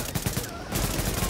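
Rapid bursts of automatic gunfire from The Division, the shots stuttering in quick clusters across a second or so, loud and close.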